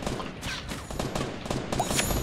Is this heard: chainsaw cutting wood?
no